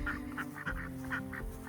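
Ducks on a homestead quack in a rapid, steady run of nasal calls, several birds overlapping close by with no talking.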